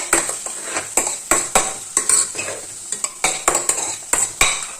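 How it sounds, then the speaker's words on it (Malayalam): A lid comes off a pan of food cooking in oil and a utensil stirs it, giving repeated sharp clinks and scrapes of metal against the pan in an uneven rhythm over a soft sizzle, close and fairly loud. "ഇനിയിപ്പോൾ ഈ ലെഡ് തുറന്നിട്ട് ഒന്ന് ഇളക്കി കൊടുക്കണം."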